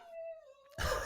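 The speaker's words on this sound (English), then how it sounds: "There's a cat." A drawn-out, wavering cat meow rises and falls faintly for under a second, then is cut off by a sudden burst of broadband noise.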